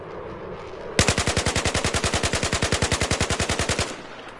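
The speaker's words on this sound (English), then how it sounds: "I'm just going to pull the trigger." A carbine rifle in Battlefield 4 fires one sustained automatic burst of about thirty rapid, evenly spaced loud shots over roughly three seconds at a shooting range, then stops abruptly.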